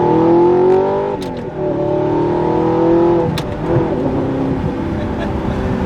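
Audi R8 with an Fi active exhaust and its valves switched open, idling with a loud, deep, close rumble and a couple of small blips of revs.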